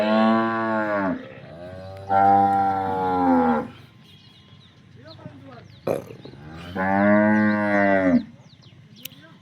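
Local Banaskantha cattle moo three times in long, loud, close calls at a slow pace, with quieter farmyard noise in the gaps between them.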